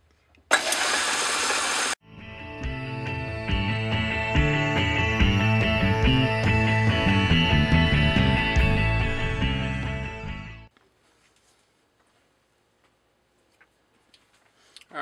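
A metal lathe turns a beam engine cylinder head part down to diameter. A brief burst of noise comes first, then about eight seconds of steady machining with a tonal whine and ticking, and then it stops abruptly.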